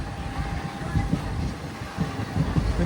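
A Madurai passenger train runs near Pamban by the sea, approaching Mandapam station, with a steady low rumble and faint rhythmic clatter of wagons rolling continuously, fairly close, with wind.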